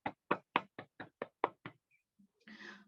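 Eight sharp, evenly spaced claps ring out close and alone, honoring mentors at an invitation session, followed by a brief pause and a short burst of softer noise.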